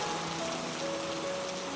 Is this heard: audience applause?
no